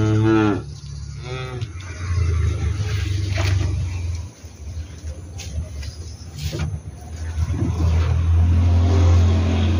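Limousin and PO cattle moo loudly and close by, with a deep drawn-out low at the start and another near the end, over a rumbling engine and background voices.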